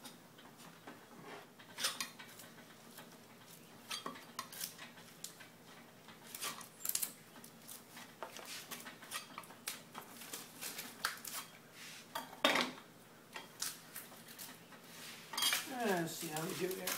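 Putty knife scraping and popping dried glue off a walnut and ash wooden landing net, a series of short scrapes, clicks and knocks spread through the stretch, close and moderately loud, with a longer rasping scrape near the end.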